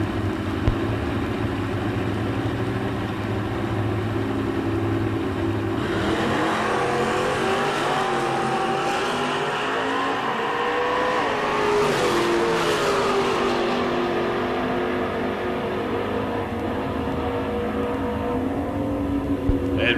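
A 1982 Mustang drag racing at a sportsman nationals event, loud engine roaring and revving hard down the strip, with a second engine sweeping past midway, continuous and close.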